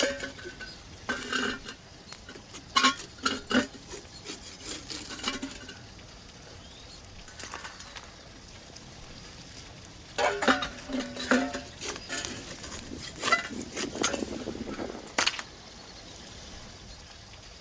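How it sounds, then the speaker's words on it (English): Tandoor-cooked trout are scraped off the clay walls of the tandoor, making quiet, scattered metallic scrapes and clinks in short clusters with lulls between them. "Let's carefully scrape these beauties off the tandoor walls."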